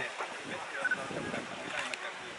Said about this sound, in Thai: โอ้โห ลมมาแรงเลยฮะ กลายเป็นพายุฝุ่น